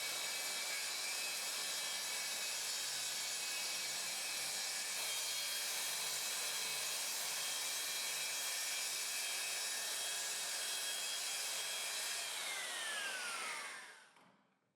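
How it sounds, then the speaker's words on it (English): A rail-guided plunge saw cuts a board with a steady, loud high-pitched whine that holds for about thirteen seconds, then spins down and fades at the end. "I adjust the depth of the saw and make the first cut."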